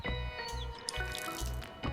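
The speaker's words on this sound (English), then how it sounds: "I am turning off the brass water tap firmly." Water drips from a brass tap in an even rhythm of soft, low drops about twice a second. Each drip is quiet and close, with faint background ringing and nothing else covering it.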